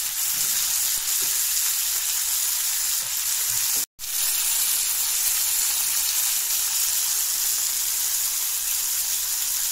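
Chili and spices fry in a pan with oil, giving a constant bright sizzling hiss that runs nearly unbroken, with one brief cut near the middle and no talking.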